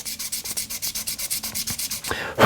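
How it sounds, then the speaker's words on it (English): Rapid rhythmic rubbing strokes of a metal bezel setting being buffed, about eight per second, close and steady, ending in a brief squeak. "So let's just buff this,"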